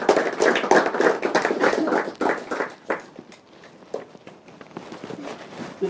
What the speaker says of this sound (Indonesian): Beri tepuk tangan dulu untuk mereka.